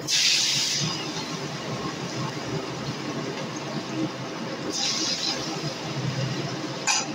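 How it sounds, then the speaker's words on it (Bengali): Black cumin seeds and chopped onion sizzling in hot oil in a home kitchen, a steady hissing crackle with brighter spitting bursts near the start, around five seconds and at the end, close and without talk. "ওই তেলের মধ্যে আমি এখন দিয়ে দেব অল্প করে কালো জিরে, আর এর মধ্যে আমি কুচিয়ে রাখা পেঁয়াজটা দিয়ে দেব।"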